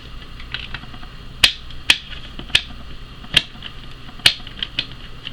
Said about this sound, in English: As you guys can hear, your screwdriver will slip, but just use force and it will actually end up coming out.